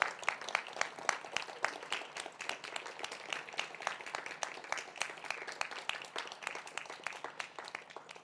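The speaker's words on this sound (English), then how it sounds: "And so would you join me in a round of applause for those who cannot be here?" A round of applause at an Ebola awards ceremony, many hands clapping in a steady, moderately loud patter of distinct claps that continues evenly throughout, with no voices over it.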